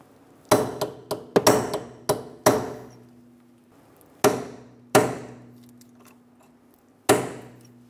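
Hammer striking a chisel to split a wheel bearing race on a 2003-2007 Honda Accord hub, about ten sharp metallic blows with ringing decay, irregularly spaced, close and clear with no talk.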